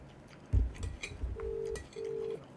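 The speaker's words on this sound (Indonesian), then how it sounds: "Terus ada yang telepon dari Singapura." An incoming telephone call from Singapore rings, two short electronic ring tones sounding in succession after a few soft knocks and handling noises nearby.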